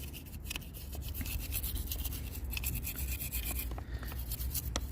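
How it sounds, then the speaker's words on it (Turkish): Toothbrush scrubbing gasoline residue off a motorcycle engine, steady close bristle rubbing that continues without pause, alone with no talking. "bir tane diş fırçasıyla e, ovalayarak e, bu benzin kalıntılarını"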